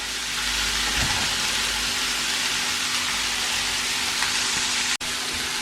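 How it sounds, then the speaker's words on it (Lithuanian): Pork liver meat frying in a pan, a continuous dense sizzle and crackle held at an even close level from start to end, with a brief dropout near the end. "Kol mėsa kepa"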